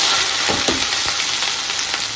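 Loud, continuous sizzling of chopped onions and green chillies frying in hot oil with cumin, with a few spatula scrapes stirring the pan.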